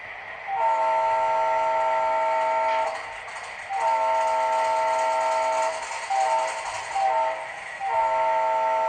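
A chime-like multi-tone horn from an HO scale model train sound decoder blows in several long blasts with short gaps, loud and close over a faint mechanical hum.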